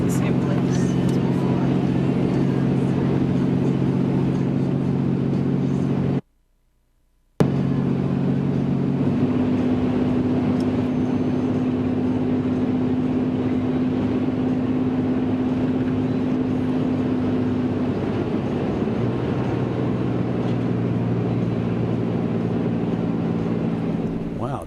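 A Cummins-powered truck rolls down a grade with only its factory exhaust brake engaged, giving a steady loud drone with sustained low tones throughout, briefly cut to silence once, while people talk over the engine noise.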